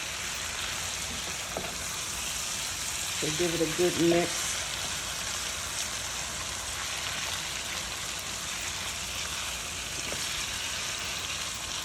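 Seafood and vegetables stir frying in hot oil in a pan, a steady close sizzle throughout with a brief clatter of stirring partway through and a voice speaking over it.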